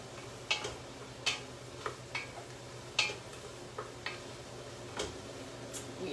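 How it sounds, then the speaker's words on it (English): Mushroom soup with unsweetened almond milk stirred in a pot, with soft, regular clicks and scrapes of the utensil against the pot roughly every half second over a faint background hum. "Let's give a stir."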